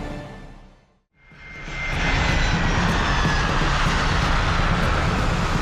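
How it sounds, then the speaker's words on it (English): A passenger plane's engines swell in after a brief dip and settle into a loud, steady roar during landing, with no voices over it. "Our plane lands safely."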